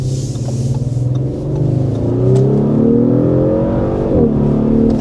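A 2024 Audi SQ5 exhaust revs up close and loud, the engine note climbing steadily then dropping sharply with a brief crackle before settling back into a throaty burble.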